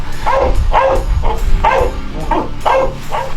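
A search and rescue dog working with rescuers barks loudly and close by, about seven sharp, evenly spaced barks in a quick rhythm, with no talking.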